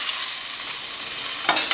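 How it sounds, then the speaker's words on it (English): Steaks sear in very hot oil with a loud, steady close sizzle and hiss, and a few brief crackles near the end. "just lay the steaks in the steaming hot oil, and you want to sear these 7 minutes on each side"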